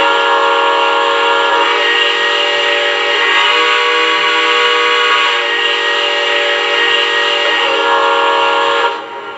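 A Lionel Legacy AT&SF 4-8-4 Northern model train sounds its whistle in one loud, steady, sustained blast lasting several seconds before cutting off abruptly.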